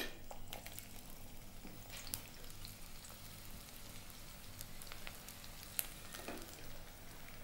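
Sliced onion frying in hot coconut oil, a steady, soft sizzle and crackle running throughout with occasional sharper pops, close and fairly quiet, with no talking.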